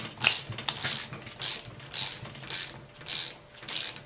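A collar screw on a forklift tilt cylinder is worked loose with a 5mm Allen key, giving repeated close ratcheting clicks in evenly spaced strokes about every half second, with no talking.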